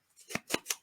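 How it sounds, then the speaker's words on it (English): Scissors snip paper edges in three crisp, evenly spaced cuts, close and fairly quiet, with no voices. "I'm going to trim around the edges here"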